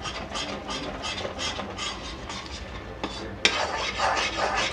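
Besan laddu mixture being stirred in a kadhai, repeated scraping strokes of a spoon against the metal pan in a steady rhythm, close-up, followed by a sharp clank and louder scraping.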